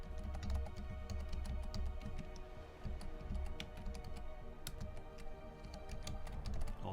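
Quick, uneven keystrokes on a computer keyboard as a folder name is typed, a close run of light clicks and taps with short pauses, quiet and with no talk.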